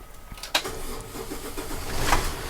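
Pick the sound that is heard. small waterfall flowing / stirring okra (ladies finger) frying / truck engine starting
truck engine starting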